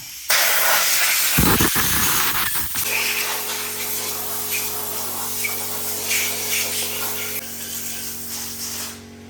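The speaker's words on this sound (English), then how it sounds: "now we got all the bolt holes and everything all blowed out" Compressed air blasts through the bolt holes of a Ford 302 engine block, a loud, steady broadband hiss running almost the whole time, with a few short bursts near the start and a faint hum behind.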